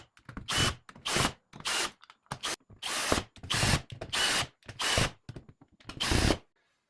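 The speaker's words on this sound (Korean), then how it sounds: "이제 드릴을 사용하여 고정해 주도록 하겠습니다." Power drill driving screws into a control panel board, heard as about nine short, close whirring bursts in a steady stop-start rhythm with brief pauses between, alone with no talking.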